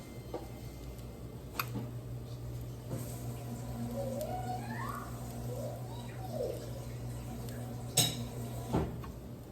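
Kitchen cleanup: a plate rinsed and a fork and cup handled, with soft clinks and taps of dishware over a low steady hum, a few sharper knocks standing out near the end.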